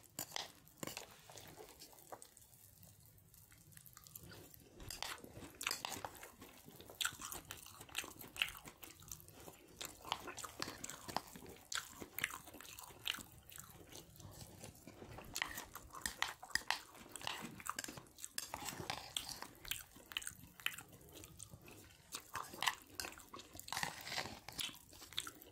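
Someone chews Rice Krispies cereal and Rice Krispies treats close to the microphone, with soft, continuous crunching and wet, sticky munching in quick irregular bites, quiet and intimate with no talk.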